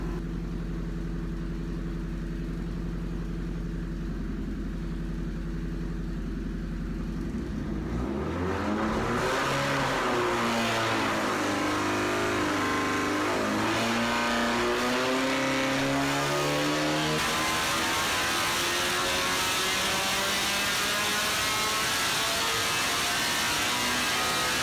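A Honda K24A2 engine on a test stand idles low and steady, then is revved hard and climbs toward about 8,700 RPM, holding a loud, sustained high-rev howl to the end with no talking.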